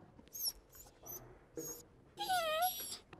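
A dog whimpers and whines in several short, high-pitched bursts that end in a longer wavering cry, faint and close, with no talk over it.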